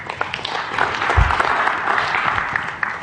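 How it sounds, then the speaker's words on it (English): Steady round of applause from an audience at a group event, dense clapping filling the whole stretch at moderate loudness with no voices over it. "Big round of applause for that thank you note."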